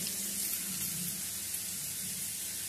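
Finely chopped eggplant fries in oil with a dense, even hiss that stays constant and close for a few seconds, with no voices.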